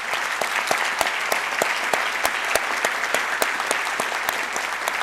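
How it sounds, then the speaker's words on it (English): At a closing ceremony, the audience applauds the standing organizers and committee members, a steady wash of many hands with sharper individual claps popping out regularly above it, continuous and even throughout. "I want you all give everyone you see here standing up a round of applause for making this possible."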